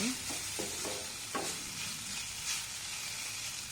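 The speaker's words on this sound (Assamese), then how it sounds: "এয়া চব্জিখিনি আকৌ লৰাই দিলোঁ" Vegetables are stirred in a hot pan, with a few scraping strokes over a soft, continuous sizzle, faint and close.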